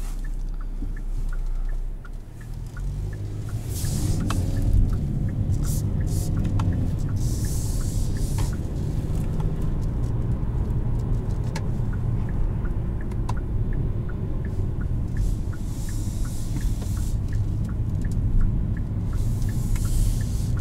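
The turbo engine of a 2020 Kia Soul GT Line idles and revs in a low, throaty drone that swells after a brief dip and holds steady and loud from inside the cabin.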